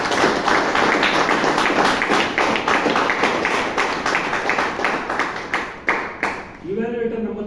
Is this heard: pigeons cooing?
no